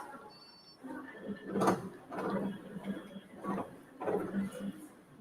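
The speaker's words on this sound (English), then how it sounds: "I'm going to put this on the machine. I'm going to trace it out." A Bernina E16 Plus embroidery machine traces the outline of a design, giving repeated mechanical whirring and clunking movements in uneven bursts at close range, with no one speaking.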